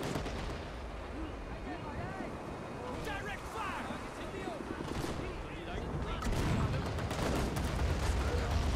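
Battlefield gunfire and artillery from Men of War: Assault Squad 2 during an NVA base attack, with steady rattling shots and booms that swell louder toward the end, while someone talks over the action.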